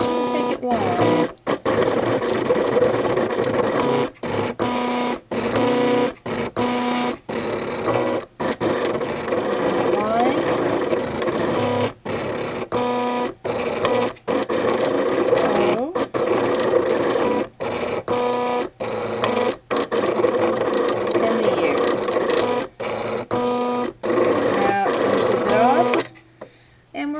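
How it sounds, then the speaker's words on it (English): A Cricut Expression cutting machine cutting out letters, a loud, steady mechanical whir and buzz of its motors running continuously, broken by short regular pauses as the blade moves between cuts, stopping near the end. "each time it cuts a letter, it's going to go up and above and cut a line so that the whole piece comes out as one"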